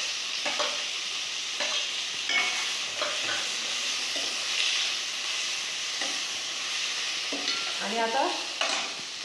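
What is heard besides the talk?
onion frying in oil with mustard seeds and cumin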